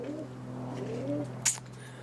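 Roller pigeons coo softly on a roof, with low, steady cooing under faint background hum and a brief, sharper flutter or chirp near the end.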